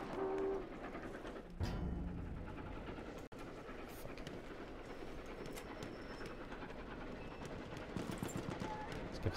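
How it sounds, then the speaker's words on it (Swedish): Train rolling past in the World War I shooter Battlefield 1, a continuous rhythmic clatter of wheels and wagons with a brief horn-like tone, heard at moderate distance amid scattered gunfire and occasional voices. "kommer det jävla tåget igen"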